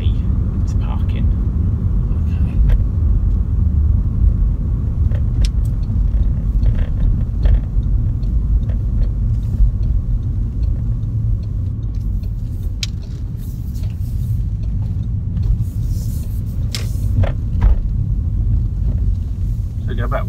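A car drives slowly into a car park during a driving lesson, its steady low engine rumble continuous and close throughout, with an instructor and learner talking over it.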